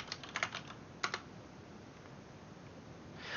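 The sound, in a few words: typing a password on a computer keyboard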